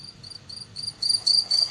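A single loud cricket chirps in short repeated bursts close by, the trills growing louder and more insistent over a quiet background.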